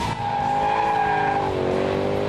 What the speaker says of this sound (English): The exhaust is designed in a way to produce this deep growl